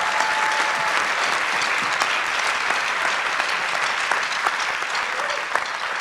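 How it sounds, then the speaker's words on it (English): Audience at a civic pitch event applauding collectively, a dense, steady wash of clapping throughout, with a faint voice underneath. "I'd like all of us to give you a round of applause now collectively."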